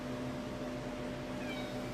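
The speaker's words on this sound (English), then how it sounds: "comes the cat." A house cat meows briefly and faintly indoors over a steady low hum, with no talking.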